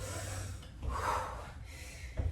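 Heavy, audible breaths during a dumbbell HIIT workout: a sharp gasping inhale followed by a long exhale and a snorting breath, close and fairly quiet.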